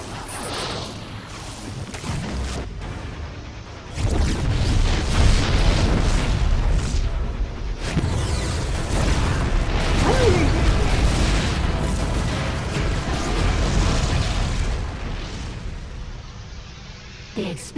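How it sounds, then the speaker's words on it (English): Explosions roar through a StarCraft II game scene aboard a ship, with heavy booms and rumbling blasts over a dense, loud sustained din, jumping louder about four seconds in, with some game voice mixed underneath. "The explosions have stopped."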